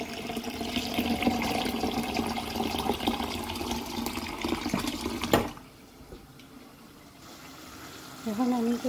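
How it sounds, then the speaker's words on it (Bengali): Hot water is poured into a pan of simmering fish curry as a steady, close rushing splash for about five seconds. It then cuts off abruptly, leaving a quiet room before speech starts near the end. "গুলি গরম পানি দিই"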